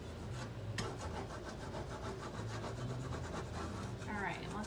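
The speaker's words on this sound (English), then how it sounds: "just burnish the whole entire kit and caboodle here" A rub-on transfer is burnished onto a painted window, heard as steady close scraping and rubbing strokes in a quick repeating rhythm, with a sharp tick near the start.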